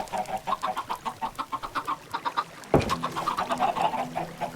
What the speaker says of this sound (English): I'm feeding all the chickens.